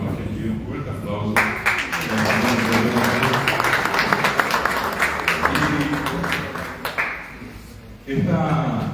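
Audience applause at a Guarani language and culture gathering of the Ateneo, a steady dense clapping that runs for about seven seconds before stopping abruptly, with speech resuming at the end.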